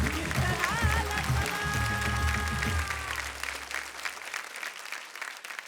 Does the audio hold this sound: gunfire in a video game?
no